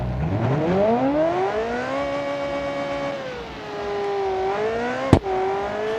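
A sequential-gearbox car in the BeamNG driving game revs hard, its engine note climbing steeply, then holding and dipping as the clutch is held in, with a sharp click or bang near the end; loud and close, no talk.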